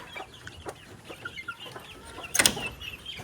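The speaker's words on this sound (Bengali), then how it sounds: "আর এই যে এখানে যে মুরগিগুলা" Chickens clucking nearby in short, irregular bursts over a quiet background, with one louder squawk toward the end.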